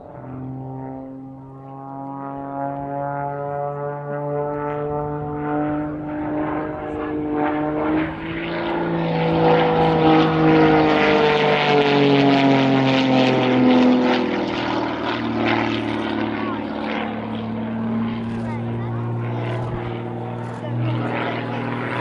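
A Zivko Edge 540 aerobatic propeller plane flying aerobatic manoeuvres, its engine droning loudly with a steady buzzing tone that rises and falls in pitch as it climbs, turns and passes overhead.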